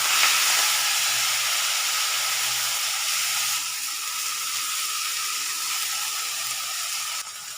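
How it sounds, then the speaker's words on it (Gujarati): Fenugreek leaves dropped into hot oil with garlic, cumin and asafoetida, setting off a loud, close, continuous hiss that holds steady, then eases slightly partway through; no voices. "આપણે હવે ભાજી નાખીશું।"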